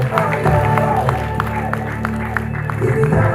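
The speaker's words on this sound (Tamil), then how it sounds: "put your hands together for Pragasri" Audience applause at the Born2win Trans Achievers Awards 2024 for the Trans Rising Star winner, a steady wash of clapping with some crowd noise and possible voices mixed in, continuous and moderately loud throughout.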